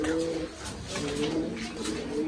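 Caged pigeons coo in soft, low, rolling murmurs, steady and faint, against a busy background of fluttering and shuffling.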